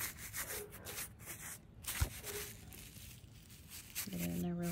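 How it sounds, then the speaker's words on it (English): Bristle brush working wood hardener into rotted, termite-damaged door frame wood, a continuous close scratchy rubbing with a sharp knock near the middle, under a steady background. "First, I'm gonna put some wood hardener on there with a bristle brush."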